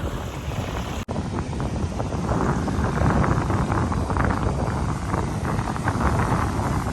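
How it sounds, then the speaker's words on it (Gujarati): Strong wind blowing at Nagoa beach in Diu during the monsoon, with a roaring, buffeting rush across the microphone and a steady surf wash beneath, loud and continuous after a brief dropout. "અમારે દરિયો અત્યારે છે ને પવન બહુ છે"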